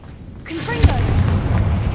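The Confringo blasting spell in Hogwarts Legacy goes off as a single heavy explosive burst with a deep low rumble, followed by a sustained roaring wash of debris and noise, loud and close.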